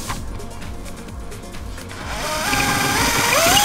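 A drill starts cutting into a cabinet inside a camper van, first some light tapping and handling, then a steady whirring bore that rises in pitch and loudness.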